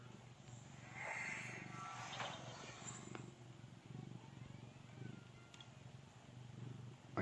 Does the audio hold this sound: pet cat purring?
yes